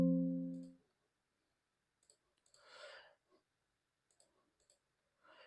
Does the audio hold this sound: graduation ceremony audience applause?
no